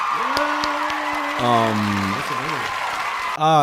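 Applause sound effect played during a podcast, a steady wash of clapping running the whole length, close and loud, with a speaking voice and tonal sounds layered over it.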